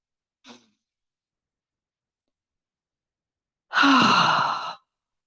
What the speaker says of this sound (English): Let's just take one more really nice deep in and out breath.